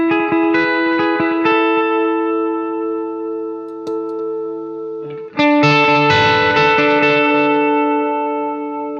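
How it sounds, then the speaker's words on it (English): An electric guitar played through an amp with reverb rings out chords that sustain and decay with a reverb tail, then a fresh, louder strummed chord hits and rings on. "I'll start playing with just the amp and the reverb"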